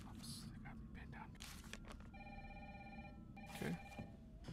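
A telephone in the video game Resident Evil 3 Remake rings with a bright, electronic tone, once for about a second and again briefly, while a voice talks around it.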